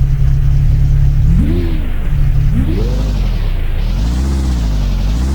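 A car accelerating in the Roblox driving game The Dusty Trip, its loud steady engine drone rising and falling in pitch through several revving swells, close and continuous.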